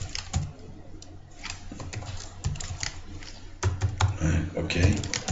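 Fingers type a password on a computer keyboard, a quick run of close, clicky keystrokes in bursts with short pauses, loud and clear against a low background hum.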